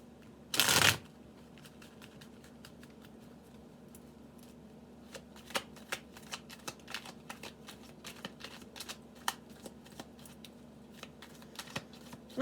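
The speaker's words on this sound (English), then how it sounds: "Give these a good shuffle here." A quick riffle of tarot cards opens, followed by soft, scattered taps and slides of the cards being handled and shuffled in a quiet room.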